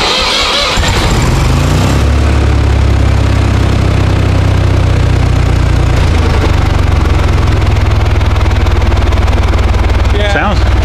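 A Ford 2600 three-cylinder tractor engine runs nearby with a loud, steady chugging idle that shifts pitch slightly, with people talking over it at times.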